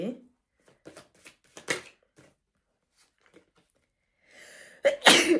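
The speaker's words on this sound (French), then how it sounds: "je sentais que j'allais éternuer" Quiet scattered rustles and small sounds, then a sharp close sneeze near the end, preceded by a brief intake of breath.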